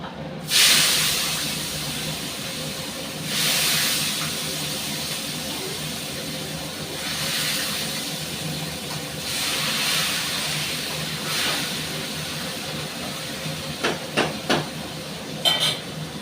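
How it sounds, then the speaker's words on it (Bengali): Panch phoron spices and chopped onions sizzle in a pan, a steady loud hiss that swells in several waves. Near the end come a few sharp clinks, like a utensil tapping the pan. "আমি এর মধ্যে একটু পাঁচফোড়ন দিয়ে দিচ্ছি এক সম্বার, আর এই কুচনো পেঁয়াজগুলো দিয়ে দিচ্ছি।"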